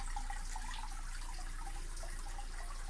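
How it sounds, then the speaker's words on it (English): Steady broadband rush of water from a water feature at a fish pond in a tropical garden in Malaysia, a continuous close splashing flow with no pauses and no voices. "Plants that I grow near the water feature here,"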